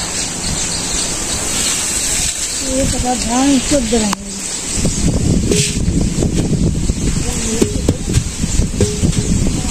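Strong gusty wind blows through a Bangladeshi village, a rough rumbling roar buffeting close by, with a voice speaking briefly partway through and rustling bursts throughout.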